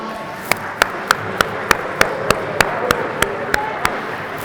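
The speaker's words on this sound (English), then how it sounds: "let's give them one more round of applause, folks" Wedding guests applauding the parents at a ceremony, heard as a series of about a dozen sharp, evenly spaced claps standing out over a soft background murmur.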